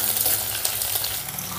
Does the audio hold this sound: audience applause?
no